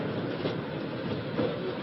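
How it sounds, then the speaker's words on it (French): A century-old steam locomotive rolls steadily along tracks through the Doubs gorges, a dense, continuous rumble and faint rhythmic clatter, close by and fairly loud. "la locomotive plus que centenaire remonte les gorges du Doubs sous les yeux de ses passagers admiratifs"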